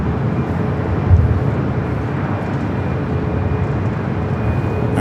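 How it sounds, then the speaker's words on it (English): Boeing 737 MAX 8 airliner at LAX bound for Denver, a steady broadband jet roar holding at close range throughout, with no voices. "Heading to Denver, flight 4148, a 737 MAX 8."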